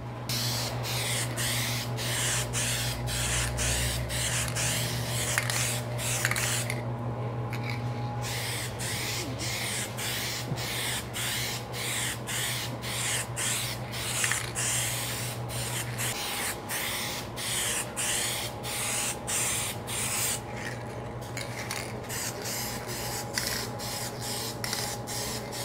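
Spray can paint hissing onto a panel: a continuous close hiss broken by rapid regular pulses as the nozzle is worked, with a steady hum underneath and no talking.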